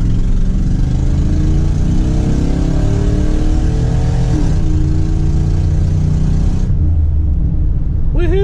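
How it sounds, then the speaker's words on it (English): A tow truck's engine roars hard through a first-to-second gear pull, a loud, close, sustained rumble that climbs in pitch, drops at the shift and climbs again, with faint voices near the end. "we'll do a little first to second gear pull for you guys to see how much ponies this thing has"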